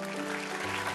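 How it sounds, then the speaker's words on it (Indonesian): Church congregation applauding during a sermon, a dense continuous wash of many hands clapping, steady and fairly loud throughout the short moment. "Kasih tepuk tangan ke Tuhan."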